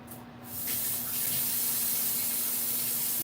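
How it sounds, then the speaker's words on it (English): A kitchen tap runs steadily for a quick hand wash before cooking okra stew, a close, constant rush of water starting after a brief moment and cutting off at the end. "Wash my hands real quick."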